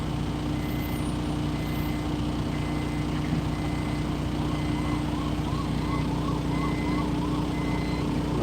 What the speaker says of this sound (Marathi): अरे ॲम्ब्युलन्स आहे